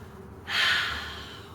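A single deep breath drawn in during a yoga core exercise, a breathy rush that begins about a third of the way in and slowly fades, close and fairly soft, with no talking.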